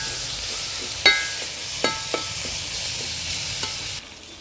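Chopped tomatoes and curry leaves sautéing in a pan for a goat intestine and lung curry, with a steady close sizzle and a few distinct spoon knocks against the pan.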